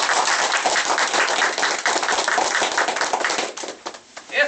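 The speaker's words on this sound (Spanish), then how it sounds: "Ese hombre, Juan Pablo Duarte, el cual le pido un aplauso fuerte." Audience applause for Juan Pablo Duarte at a Dominican Independence Day gathering, loud and close sustained clapping from many hands that thins out and tapers at the end.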